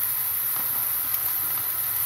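Cauliflower (gobi) pieces hiss and sizzle steadily in hot frying oil, a continuous close bright crackle without pause.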